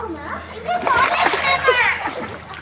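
A child jumps into a swimming pool and makes a loud, close water splash, with children's voices chattering and shouting throughout.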